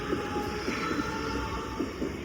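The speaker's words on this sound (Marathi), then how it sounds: "ट्रेन चालली बघा." A train rolls past a level crossing beside the Sewri dry fish market in Mumbai, its wheels clacking in a steady rhythm over a continuous loud rumble and hiss, close by and without any talk.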